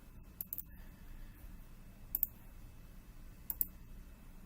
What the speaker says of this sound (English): I will click Install